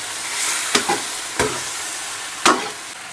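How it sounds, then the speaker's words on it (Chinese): Chicken pieces stir-fried with scallion, ginger and star anise for big plate chicken crackle in a wok under a continuous sizzle, punctuated by three distinct spatula scrapes spaced irregularly, with no voices. "下入葱姜八角，继续翻炒"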